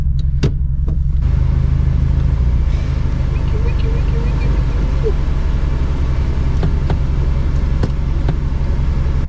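A 2002 Subaru WRX Bug Eye runs with a loud, constant low rumble heard close up, with a few sharp clicks and knocks over the steady drone.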